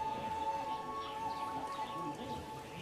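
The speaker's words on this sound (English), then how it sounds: "I can hear the birds singing." Birds call faintly beneath a deep canopy of tall camphor trees in a Chinese water town, soft cooing and chirps set against a steady background hum.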